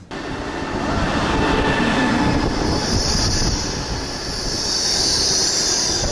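A train rumbles through Voronezh railway station with a steady, loud roar, wheels grinding and squealing high over the clatter as it passes close by.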